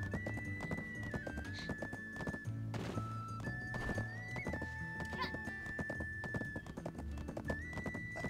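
Rapid clip-clop hoofbeats of a fast horse mount galloping in the video game Black Desert, a steady rhythmic pounding throughout with occasional neighs and a sustained musical tone over it.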